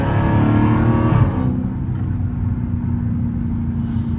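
A Dodge Hellcat with its rear seats removed roars loudly from close inside the cabin, a harsh exhaust blare that drops off after about a second into a steady deep rumble as it downshifts and pulls.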